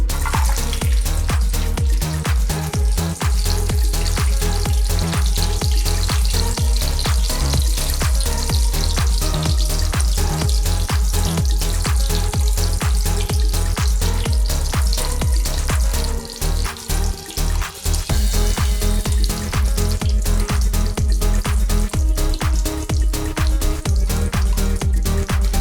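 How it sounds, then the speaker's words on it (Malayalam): Cashews and raisins frying in a pan for rava kesari, a loud, continuous dense sizzle and crackle that holds steady throughout with one brief dip partway. "അണ്ടിപ്പരിപ്പും കിസ്മിസും ഒന്ന് നമുക്ക് മൂപ്പിച്ചെടുക്കാം."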